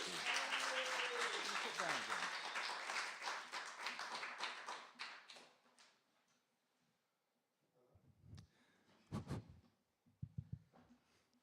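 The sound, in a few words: audience applause for James Lewis Moran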